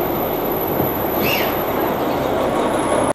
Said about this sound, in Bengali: এইটা কিন্তু ডিজেল ইঞ্জিন।